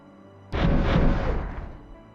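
Grimlock weapons firing and landing in a Space Engineers battle, a sudden loud booming impact that swells into a rumbling roar for over a second before slowly fading.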